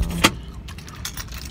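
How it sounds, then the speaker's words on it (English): Car keys jangle in one brief bright burst near the start, close by inside a car, followed by a quiet cabin with faint soft rustles and no talking. "These my keys."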